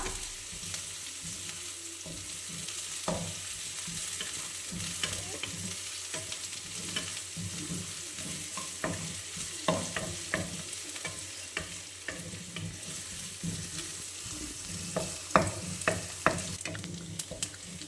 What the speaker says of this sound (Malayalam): ഉള്ളി അതുപോലെ തന്നെ നമ്മുടെ വെളുത്തുള്ളിയും കൂടെ ഇട്ടിട്ടുണ്ട് ഇതൊന്ന് നമുക്കൊന്ന് ജസ്റ്റ് ഒന്ന് വാട്ടിയെടുക്കാം